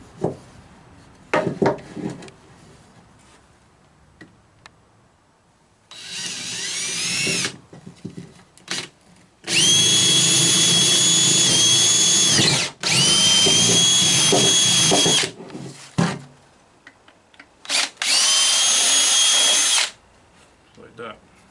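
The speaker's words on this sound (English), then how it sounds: "I like to drill about halfway and then flip it around and drill the other side." Power drill boring through wooden boards while building a porch swing, several loud sustained bursts of drilling separated by pauses, with brief handling knocks between them.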